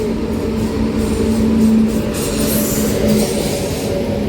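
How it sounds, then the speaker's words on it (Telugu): A train rolls into railway platform number 2 on a Hyderabad to Vijayawada line, a steady loud rumble with a sustained low hum and faint wheel squeal, no voices. "ఇదిగోండి గాయస్, ప్లాట్ఫామ్ నెంబర్ 2 మీద ఒక ట్రైన్ అయితే వస్తుంది"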